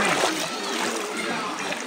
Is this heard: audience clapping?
no